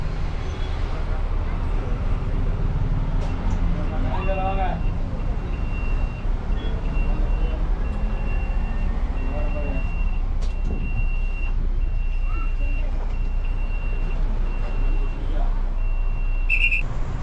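Chennai city bus pulling in at a stop, with a steady engine rumble, traffic noise and a faint repeating electronic beep under the din throughout.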